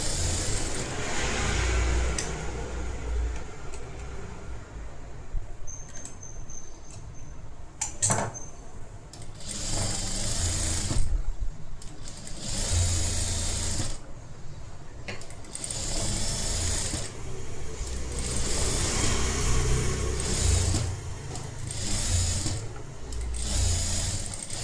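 A sewing machine runs a flat stitch along a blouse seam, loud and steady in repeated bursts of whirring with brief pauses between runs, no voices over it.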